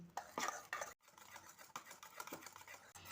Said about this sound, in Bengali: এবার এই ব্যাটারটা আমি 5 মিনিট মতো ফেটিয়ে নিচ্ছি।